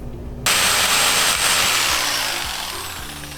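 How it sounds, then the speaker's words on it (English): A jigsaw cuts through cable while installing trim at a camper charging station, starting abruptly as a loud, steady buzzing rasp that holds for about three seconds with no talk. "Cut that with the jigsaw."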